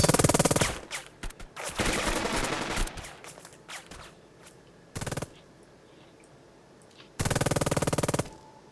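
Bursts of machine-gun and rifle fire from the WWII tactics game Burden of Command, loud broadband volleys at the start, then sporadic rattling shots, with two sharp sustained fusillades near the middle and end.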